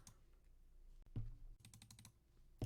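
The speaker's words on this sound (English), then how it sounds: "shuffling some cards" Playing cards being shuffled make quick, crisp flutters and clicks near the microphone, with a short burst of rapid riffling in the middle and a sharp snap at the end.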